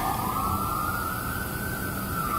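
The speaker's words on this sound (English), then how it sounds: "you can probably hear all the sirens and the wind blowing through my trees" Several sirens wail steadily in the distance, pitch slowly rising and falling, over a constant rushing hiss of wind blowing through trees.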